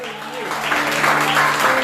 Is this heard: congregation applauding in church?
yes